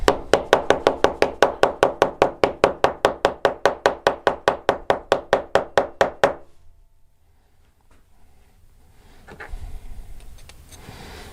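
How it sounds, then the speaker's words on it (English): A heated golf club head is knocked repeatedly to loosen its tip weight, about thirty rapid, evenly spaced sharp knocks up close, then stopping, followed by quiet and faint handling noise. "we're going to kind of knock it down"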